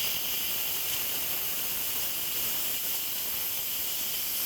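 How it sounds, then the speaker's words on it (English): Steady, loud hiss of steam venting from an Instant Pot pressure-release valve after a yogurt sterilizing cycle, continuous and close for the whole stretch with no talking. "My sterilizing time is done, so I need to release the steam, and I'm going to do that with a chopstick and open this valve."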